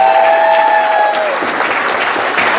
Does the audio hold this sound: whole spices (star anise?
no